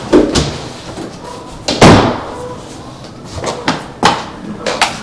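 Garage door of a newly built home being closed during an inspection, giving several sharp knocks and a heavy slam amid clattering handling noises, close by with faint voices.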